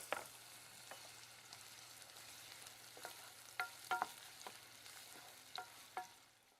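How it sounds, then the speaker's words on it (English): Onions frying in a little oil in a saucepan make a quiet low sizzle, broken by several soft knocks and scrapes of a spoon stirring. "I've put a little oil into a saucepan and I'm going to fry the onions until they go golden"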